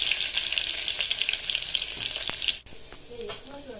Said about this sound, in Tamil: கருவேப்பிலை நல்லா ஃப்ரை ஆனதும் சின்ன வெங்காயம் ஆட் பண்ணிக்கோங்க.